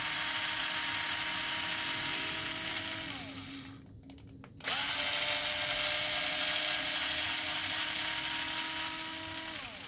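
Power tool whirring steadily as 2.5mm flat head screws come out of a Traxxas Maxx center differential, a high continuous buzz that pauses briefly midway, then resumes at full level.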